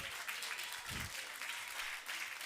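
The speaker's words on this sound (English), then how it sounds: "Clap those hands" Audience at a Thanksgiving dinner clapping hands, a steady wash of applause filling the whole moment at moderate level, with a brief low thump near the middle.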